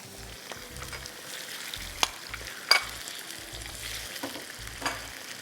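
A kilogram of chicken fries in a little oil in a karahi for Balochi karahi, giving a soft, continuous sizzle with occasional sharp metallic clinks of stirring nearby.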